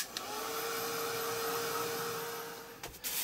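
A dryer blows steadily on wet blue paint on a collage art journal page, a close, even whooshing drone lasting a few seconds before it clicks off near the end.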